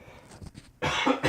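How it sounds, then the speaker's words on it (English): A single person coughs: a quieter throat sound first, then a loud, close, harsh burst of coughing near the end. "almost made it through the video without coughing"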